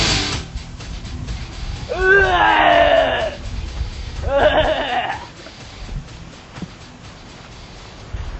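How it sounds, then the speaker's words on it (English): Drawn-out agonised screams and groans of a dying man in the Quake deathmatch game, two long wavering cries a few seconds apart rising over a low background hum. "Man is crawling around for about 5 minutes, screaming in agony, and then the final death cry."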